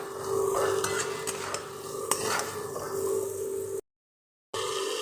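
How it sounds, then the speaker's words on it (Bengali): Dry ground spices loosened with a splash of water get stirred in a pan, a soft scraping and wet sizzle with a few sharp utensil clicks; a brief dropout of silence breaks it near the end. "এই মশলাটা দিয়ে কিন্তু আমি একটু জল দিয়ে নাড়বো, যেহেতু শুকনো মশলা।"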